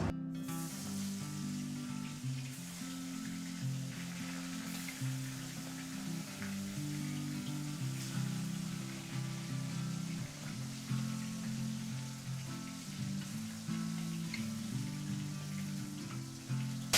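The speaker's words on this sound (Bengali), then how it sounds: "তেল গরম হয়ে গেছে, মাছ ভেজে নেব।" Koi fish frying in hot mustard oil in a kadai, a steady dense crackling sizzle holding throughout, close and even, with no talk.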